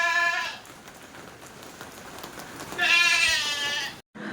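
Rain falls steadily outside onto hanging laundry, a soft continuous patter beneath two loud, wavering goat or sheep bleats nearby, one at the start and a longer one near the end.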